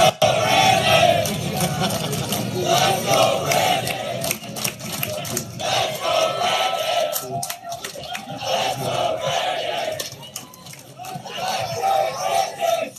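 A crowd of Trump supporters chants "Let's go, Brandon" at a rally, a loud, steady roar of many voices rising and falling in repeated rhythmic waves throughout.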